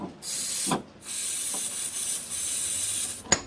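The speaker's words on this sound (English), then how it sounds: "We'll spray a bit of engine start in it" Engine starting fluid sprays from an aerosol can onto a 1976 Jaguar XJ6 Series 2 engine in a few long hissing bursts, close and loud, with brief pauses and a small clunk near the end.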